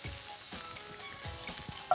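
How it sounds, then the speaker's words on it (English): Minced meat fries hard in a hot pan, a loud continuous sizzle with the scrape of stirring underneath, close and alone with no talking. "frying off the mince for colour is so important"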